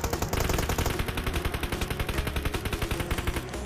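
Loud, sustained machine gun fire in PUBG Mobile, a relentless rapid stream of evenly spaced shots close up, running the whole time without pause or talk.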